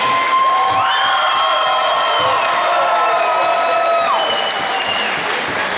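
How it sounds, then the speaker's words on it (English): A crowd at a Genesis Fighting Championship bout between Katie Dihle and Kathleen Albany gives loud, sustained applause with cheers and whoops, while a high, ringing tone rises and falls over the noise. "You both deserve the best and the biggest round of applause here tonight."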